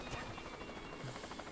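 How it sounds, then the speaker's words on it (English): A helicopter whirs in the Worms W.M.D video game, a steady rotor chop at moderate level with some speech faintly mixed in. "That was a helicopter."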